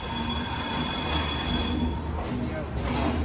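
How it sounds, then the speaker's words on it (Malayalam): Brindavan Express pulling into KSR Bengaluru City Junction station, with a continuous rumble of railcars and high wheel squeal over it. The sound is close and steady, and people talk beneath it. "KSR Bengaluru city junction railway സ്റ്റേഷനിലേക്ക് നമ്മുടെ ട്രെയിൻ ഇതാ എത്തിക്കൊണ്ടിരിക്കുകയാണ്"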